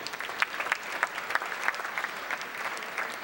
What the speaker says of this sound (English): Give everybody a round of applause